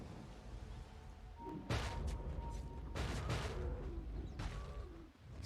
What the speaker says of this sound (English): Satisfying sounds of thudding of the Earthshaker